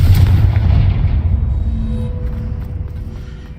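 A Confringo fire spell explodes in Hogwarts Legacy: a loud, close, low rumbling boom at the start that rolls into a long fading roar and crackle, with no voices.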